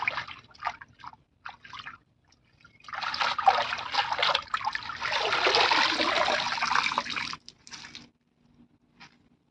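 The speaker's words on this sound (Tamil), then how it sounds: "அப்புறம் தலை போட்டு தண்ணியில் அலாச்சிக்கலாம்" Fresh drumstick tree leaves and curry leaves are swished and rinsed by hand in a bowl of water: short splashes at first, then a sustained sloshing, then a few final drips and swirls.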